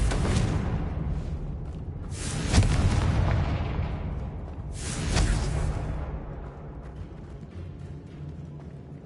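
Two heavy magical blasts from the Confringo fire spell in Hogwarts Legacy burst out about two and a half seconds apart, each a loud boom trailing into a rumbling decay over a continuous low background drone.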